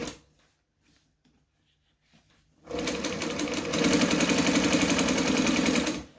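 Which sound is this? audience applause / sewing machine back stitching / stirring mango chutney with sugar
sewing machine back stitching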